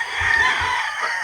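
Chickens, including a crowing rooster, sound together in a dense, steady flock chorus, the calls overlapping continuously and fairly loud, with no talk.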